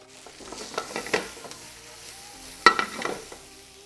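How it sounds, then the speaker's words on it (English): Onions cooking in a little butter in a pan, a soft sizzle with scattered clicks and stirring scrapes, and one sharper knock midway, close and alone. "Last thing we're gonna do is the onions and a little bit of butter."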